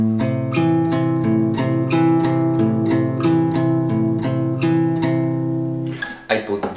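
Fingerstyle acoustic guitar playing the opening two measures of a piece from Kung Fu Panda, with sustained bass notes under a plucked melody, close and clear, ending in a brief handling noise.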